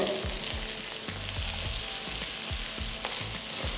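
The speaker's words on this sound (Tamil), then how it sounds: "அடுத்து கட் பண்ண பீன்ஸ் போட்டுக்கலாம் கேரட் முருங்கைக்காய் ஒன்று" Cut beans, carrot and drumstick sautéing in a pan for sambar rice, a steady close sizzle of frying with stirring throughout and no voices.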